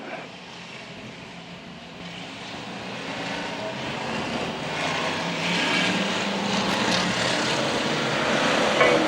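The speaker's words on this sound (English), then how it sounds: "Now that's the sound we like to hear, the rumbling V8 engine." V8 stock car engines rumble at Arlington Stadium, a steady broad roar that swells gradually louder as the cars approach, with no voices over it.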